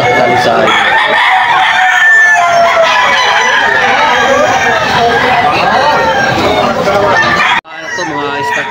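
Several young talisain stags crow and cluck together at a poultry market in Bocaue, Bulacan, loud and close, overlapping calls with raspy crows, cut off sharply near the end before resuming faintly.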